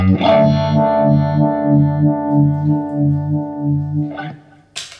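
Electric guitar through a Bogner Shiva amp with EL34 tubes and reverb, driven by a Paul Cochrane Tim pedal, rings out in overdriven sustained chords with a pulsing rhythmic strum, then a fresh strike and a brief scrape at the end.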